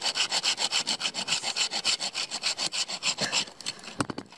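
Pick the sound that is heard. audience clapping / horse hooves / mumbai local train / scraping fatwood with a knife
scraping fatwood with a knife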